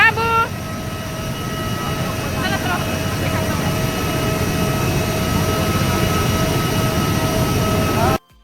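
A jet airliner on a first flight from Guwahati fills the cabin with a loud, steady engine roar, with a chime and announcement tones near the start, then an abrupt cut at the end.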